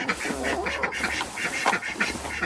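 Ducks quack repeatedly in short bursts at close range while being fed in a backyard pen, the calls overlapping steadily over a low background hum.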